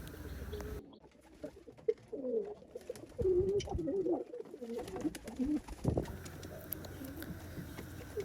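Racer and local pigeons coo in soft, repeated throaty rolls around their loft, close and fairly clear, with a few light chirps and rustles mixed in.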